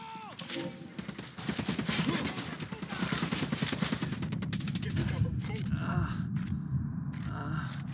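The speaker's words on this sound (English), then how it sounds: "Opening fire on these fuckers." Gunfire in the video game Ghost Recon Wildlands: dense, rapid automatic bursts crackle continuously, loud and close, with voices mixed in.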